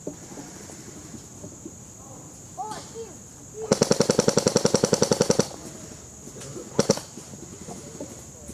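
Airsoft guns fire during an outdoor airsoft battle: a sharp rapid burst of shots lasting nearly two seconds, then a brief second volley. Quiet outdoor ambience with faint birds or insects sits around the bursts.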